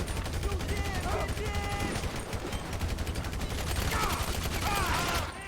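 Rapid automatic gunfire from the video game GTA V rattles continuously and loudly throughout, with voices talking over the shots.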